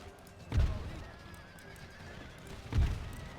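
Horses of a cavalry regiment in an Empire: Total War battle whinny in two short, loud neighs about two seconds apart, rising over a steady rumble of battle ambience.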